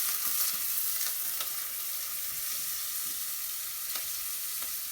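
Onions, garlic and caraway seeds sweating gently in a pan over moderate heat, a soft, even sizzle with a few faint utensil taps, quiet and steady with no talk.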